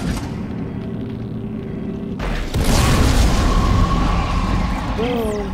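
A shot canister in Dead Space 2 goes off in one heavy, booming explosion partway through, followed by a rolling rumble and ringing game sounds over a low ambient hum.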